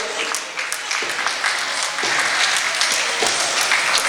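Steady, dense applause from an audience at a Kathak dance and badminton award ceremony, continuous clapping filling the hall for about four seconds with no break.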